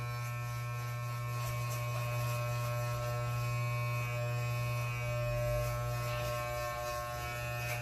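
Electric hair clippers fitted with a 1.5 guard run steadily close by while cutting hair, giving off a continuous, even buzzing hum with no breaks and no talking.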